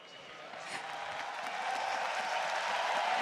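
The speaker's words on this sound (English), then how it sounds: "Cheering for the analyst desk" Applause and crowd cheering build steadily in a large hall at an esports tournament, a dense wash of clapping for the analyst desk that grows louder throughout.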